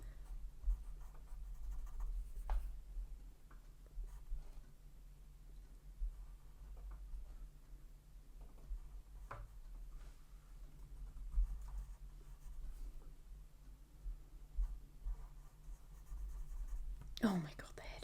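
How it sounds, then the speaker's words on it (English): Quiet scratching and light strokes of a pen drawing on a calendar page, faint and close over a low steady hum, with soft murmured talk in places. "I'm just gonna draw this."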